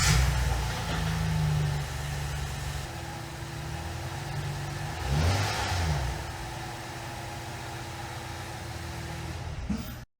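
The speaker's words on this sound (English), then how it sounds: "I can get an exhaust clip in here" Exhaust note of a 2018 Acura TLX, a steady low engine rumble that swells briefly mid-clip then settles to a quieter even drone, with no talking.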